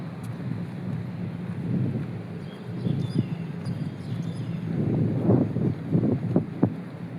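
Steady wind rushing and buffeting, with low rumbling gusts that swell and fade, heard outdoors near open water at a waterfront park in Sai Kung, Hong Kong.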